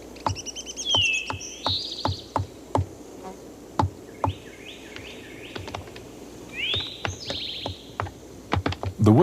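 Woodpeckers in a Southern forest tap holes into tree bark, sharp irregular knocks scattered through the stretch, mixed with chirping bird calls nearby.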